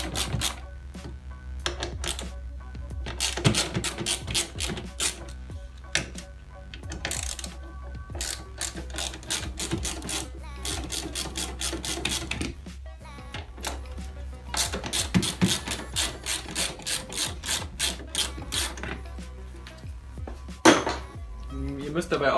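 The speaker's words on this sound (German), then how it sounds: "Als nächstes müssen wir hier 4 Torx-Schrauben lösen." A T30 Torx driver loosens Torx screws on the blower motor of a BMW E46, giving rapid, close ratchet clicking in repeated bursts with metallic clinks, while someone talks over it.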